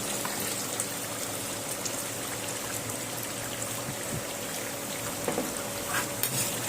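Chicken kala bhuna sizzles steadily in a pan as spices are stirred in, a continuous close frying hiss with occasional scraping and clinks of the spoon, no talking.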